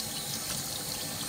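Running water rinsing relaxer perm out of hair at a sink, a steady close splashing stream without pauses.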